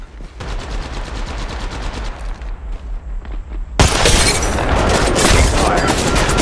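Rapid automatic gunfire in Apex Legends Mobile, a fast rhythmic burst that gives way to a loud, dense wash of shots and impacts, close and continuous throughout, with no talking.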